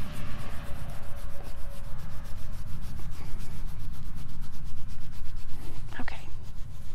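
A horse in an arena wearing a nylon halter rubs its neck against something, producing a steady rhythmic scraping and rubbing, close and fairly loud, with a brief knock near the end.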